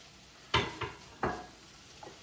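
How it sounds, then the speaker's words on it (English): Ground beef, one pound, dropped into a hot pan for taco meat, giving a few short sizzling thumps and scrapes close by, with quiet gaps between them. "here I have 1 pound of ground beef, and we're going to add that to the pan"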